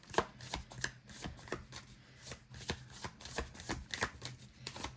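Tarot cards being shuffled over and over, a steady run of crisp riffling and snapping bursts with soft thumps, close and fairly quiet, with no voices.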